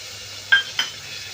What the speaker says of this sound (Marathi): टोमॅटो पण छान परतून घेऊया